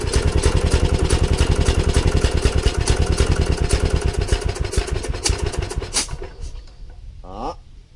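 A 1980s golf mower engine fires up and runs with a loud, rapid, steady chugging beat that cuts out near the end, followed by a brief sputter and a short rising mechanical whine.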